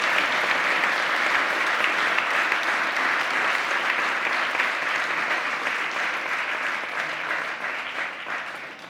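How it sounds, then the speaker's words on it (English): Large audience at a closing ceremony gives officers sustained, loud, even applause that fills the hall for the whole stretch and fades slightly toward the end. "a big, big round of applause for all these officers"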